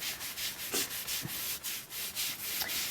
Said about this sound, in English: I'm rubbing it across that stencil